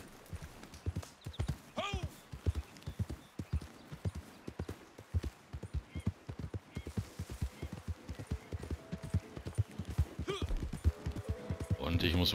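Horse hooves clip-clopping in the video game Red Dead Redemption 2 Online, a steady trotting rhythm of sharp, close beats throughout, with brief louder accents and a short snort or whinny.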